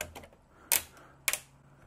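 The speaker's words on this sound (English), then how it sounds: "Now we take our cover and snap it in place." Two quick plastic snaps as a light switch cover plate clicks into place over a motion sensor switch, close and crisp, with faint lighter ticks before them.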